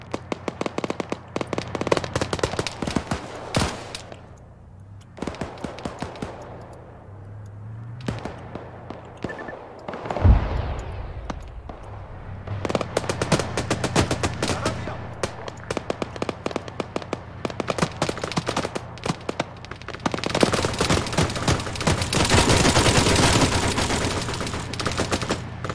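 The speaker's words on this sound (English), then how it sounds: "Machine gunners are really tearing it up." Machine gun fire in the video game Arma 3, dense rattling bursts and scattered gunshots over a combat scene, with loud sustained volleys near the end.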